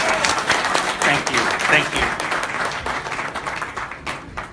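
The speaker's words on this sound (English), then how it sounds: "Please welcome with a big round of applause" A crowd applauds at a blockchain launch event, steady moderate clapping that fades toward the end while a voice briefly speaks over it.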